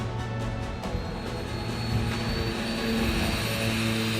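A seaplane drones steadily in the Maldives, a loud continuous engine and propeller roar holding evenly throughout without interruption.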